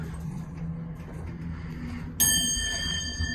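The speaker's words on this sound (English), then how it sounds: "Oh man, listen to that bell." A Westinghouse MPH hydraulic elevator at a Macy's store sounds its bell: a bright, ringing chime with long, sustained overtones starts suddenly partway through and hangs over a low, steady hum of machinery and room noise.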